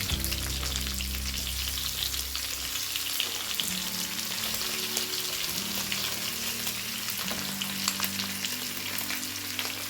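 Garlic and leftover fried rice ingredients fry in a pan, giving a continuous close sizzle with occasional stirring scrapes and low kitchen hum, and no talking.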